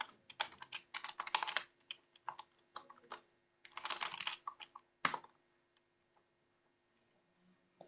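Someone types a username on a computer keyboard in two quick bursts of close, light key clicks, followed by a single firmer keystroke and then near silence.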